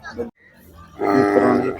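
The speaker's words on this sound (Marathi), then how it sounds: "वासरू मैदानात दाखल झालेलं आहे" A calf at a bullock-race ground in Chorade moos once, a long, full bellow lasting under a second, preceded by a brief grunt-like sound and a pause.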